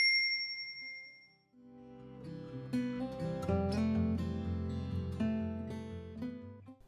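A short, high notification bell ding rings alone. It is followed by a few seconds of bright, plucked musical notes with a steady rhythm and a low bass line, with no talking.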